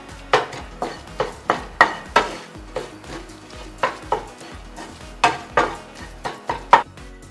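A spoon stirring broccoli and egg sandwich filling in a bowl, giving a rhythmic series of sharp, close scraping clacks about twice per second, loud and alone.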